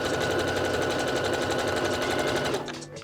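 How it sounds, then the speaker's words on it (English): A sewing machine runs in a fast, steady whir, stitching down the middle of fold-over elastic for a bra and pants set, continuous and close for most of the clip before slowing and stopping at the end. "You simply fold over the elastic and then stitch straight down the middle of it, gently stretching out as you go"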